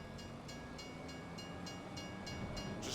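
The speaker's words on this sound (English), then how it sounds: "Oh, darn train." Train rolling past in the Farming Simulator game, with a steady rumble and a regular rhythmic clatter of wheels over rail joints that swells louder toward the end as it draws near.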